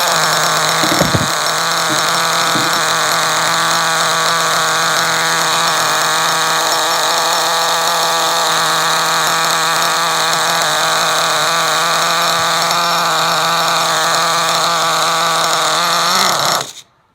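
The tiny nitro engine of a Trinity Next 1/16 RC truggy idles loud and close, a high, buzzy, steady drone with a few brief stutters early on, cutting out abruptly at the end.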